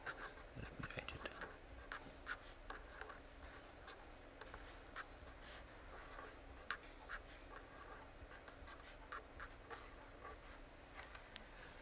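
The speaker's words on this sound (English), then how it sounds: "Let me write it down." Someone writes an equation by hand, probably chalk or a pen on a board, making a quiet, scratchy run of short strokes and taps with faint room noise behind.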